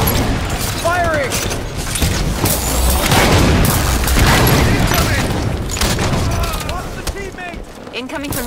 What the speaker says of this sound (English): Located the target. We're steady with the railgun. 9 wrecks available. Firing!